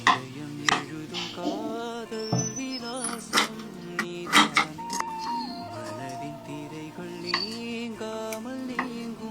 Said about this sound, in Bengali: প্রথমেই মিডিয়াম সাইজের আলু নিয়ে খোসা ছাড়িয়ে মাঝখান থেকে দু টুকরো করব